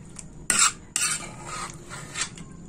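Utensils scrape and clink against a pot and dish while cooked pork caldereta is served, with a couple of sharp metallic knocks followed by softer stirring and scooping sounds.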